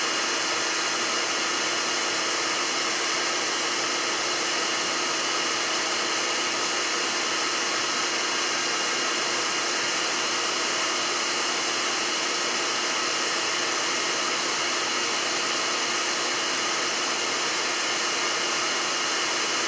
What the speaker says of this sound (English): the hair dryer is making about 1200 watts of heat